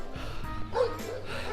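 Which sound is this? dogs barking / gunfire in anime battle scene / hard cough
dogs barking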